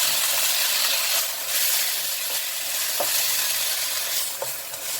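Canned fish and Chinese kale stir-fry in a hot pan with a steady, close sizzle and hiss. A few faint scrapes and clinks of stirring come through.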